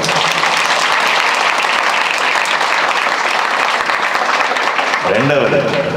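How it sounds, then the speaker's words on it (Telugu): An audience of students breaks into loud, dense applause that holds steady throughout, with a speaker's voice returning under the clapping near the end. "దీనికి మీకు మీరే చప్పట్లు కొట్టుకోవాలి ఒకసారి"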